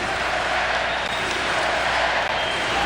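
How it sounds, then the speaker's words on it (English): A packed arena crowd at a 2002 Salt Lake Olympic hockey game between the USA and Germany roars steadily, a dense, continuous wash of cheering and chanting that holds at a loud, even level throughout. "And the crowd is chanting USA again."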